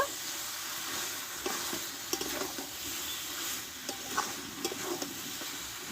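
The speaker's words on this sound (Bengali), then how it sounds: "আবারও আমি পাঁচ মিনিট মতো ভালোভাবে একটু চিকেনটাকে কষে নেব" Chicken pieces stir-fried Bengali style in a pan, with a steady sizzle and repeated scrapes and clinks of a spatula, growing busier toward the end.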